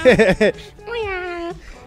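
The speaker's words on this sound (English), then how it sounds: "Call the cat. Call the cat." A cat meow sound effect played on a sports talk show: one drawn-out, clear meow follows a brief burst of speech.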